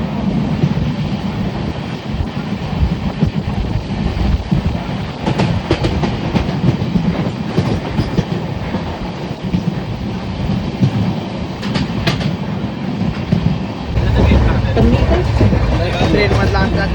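A train rolls along the rails on a Konkan coastal journey, giving off a continuous loud rumble and clatter from close by, while people talk over it.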